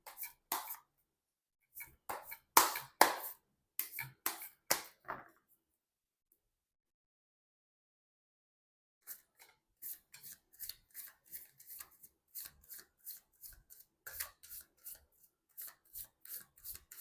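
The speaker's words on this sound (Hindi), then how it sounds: "मैं कर लेती हूँ कार्ड की शफलिंग।" Tarot cards shuffled by hand, heard as a burst of crisp riffling snaps, a pause of silence, then a longer run of quick, evenly spaced card flicks, close and clear with no talking.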